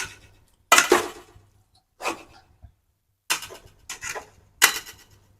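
A metal spatula stirs and scrapes kothu parotta with salna in a pan, five separate scraping bursts spaced irregularly with quiet gaps between.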